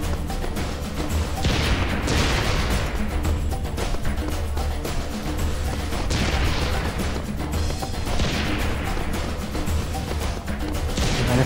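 Dense, continuous bursts of gunfire and explosions from the video game Serious Sam 3: BFE roar for the whole stretch, loud and close, with no talking over them.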